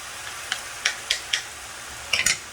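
Rice noodles with shrimp and vegetables stir-fried in a pan: a steady sizzle runs throughout, broken by a handful of sharp, close scraping taps from quick stirring, with a short cluster near the end.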